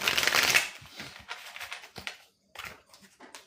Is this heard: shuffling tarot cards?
yes